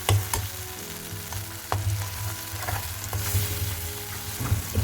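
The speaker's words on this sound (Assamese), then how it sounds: "অলপ দেৰি ষ্টিৰ ফ্ৰাই কৰোঁ" Washed raisins stir-fried in a hot pan, a steady close sizzle with scraping stir strokes and clicks of a spoon against the pan, no voices.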